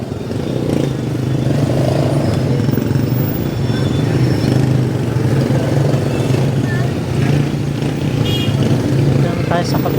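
Busy street traffic with cars and motorcycles passing steadily, a continuous engine rumble and hum that stays loud throughout, with faint background voices.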